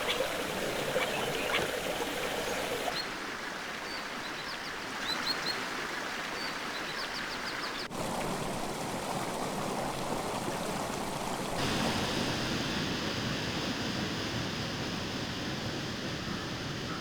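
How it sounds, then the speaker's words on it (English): Fresh spring water at the En-Gedi oasis flows in a steady, close babble, with faint birdsong in the background and no voices present. "the numerous springs of En-Gedi provide the only source of fresh water for miles"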